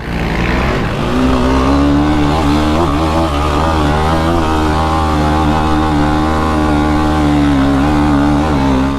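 Several Yamaha sport ATVs, a torquey Raptor and a Banshee among them, rev loudly and steadily on a trail, a dense close engine roar holding for the whole stretch.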